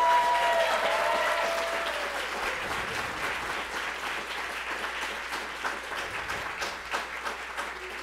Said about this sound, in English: Can we have a round of applause for everyone over there?